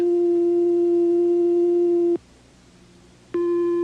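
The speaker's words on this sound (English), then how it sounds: "This is a sine wave." Steady electronic oscillator sine tone, loud and clean, cutting off abruptly after about two seconds and resuming at the same pitch a second later.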